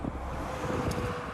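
Steady, roaring wind noise buffets the microphone while cycling along a mountain road in hot weather, a continuous loud rumble with no distinct events and no speech.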